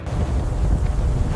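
Howling storm wind roars loud and close, a dense continuous buffeting rush with no pauses and no voices.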